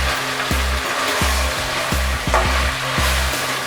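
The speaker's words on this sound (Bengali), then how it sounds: "আমার মাটন হেড কারিটা ভাজা ভাজা হয়ে গেছে" Goat head curry fries in oil in a pan with a loud steady sizzle, while a spatula scrapes and stirs in regular strokes about every half second, without talk.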